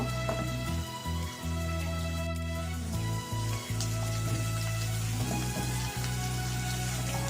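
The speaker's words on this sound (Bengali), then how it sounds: "চিকেন আর ডিমটা ভালো করে হালকা করে ভেজে নিচ্ছি।" Chicken and egg frying lightly in a pan make a soft, steady crackling sizzle that runs throughout, under a constant low electrical hum and a few faint clicks.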